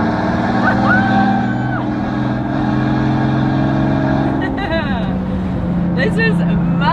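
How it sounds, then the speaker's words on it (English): A one-off Maybach Exelero's big engine drones loud and steady along a private airport strip, its low roar shifting in pitch near the end as it revs, with excited talk over it. "This car is so loud."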